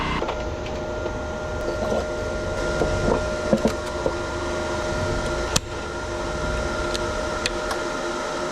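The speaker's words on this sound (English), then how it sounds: "There goes that generator again. Don't ever buy anything that says Champion on the side of it." A Champion generator runs roughly at a construction site for a steel shop building, a steady mechanical hum with faint tonal whine and a few sharp clicks and knocks, no talking.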